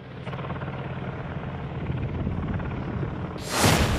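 Military attack helicopter flying along a high-altitude border, a steady rotor chop and engine drone heard at moderate distance, briefly swelling louder near the end.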